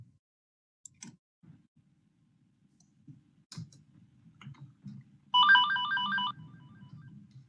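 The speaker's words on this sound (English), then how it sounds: "Sorry about the phone." Telephone ringing during a city budget work session, a loud electronic ringtone burst lasting about a second, set against quiet room noise, scattered clicks and faint low murmurs.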